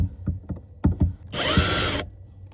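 A power drill mounting a fishing boat transducer runs free without biting into the balsa wood, giving a loud, steady whir for about a second after a few knocks and clunks.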